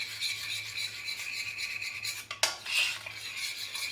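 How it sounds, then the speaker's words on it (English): Zinc oxide powder being stirred into a homemade sunscreen mixture, a steady close scraping and rubbing of a utensil in a container with one sharper knock near the end. "You mix it well until the zinc oxide powder is evenly distributed throughout."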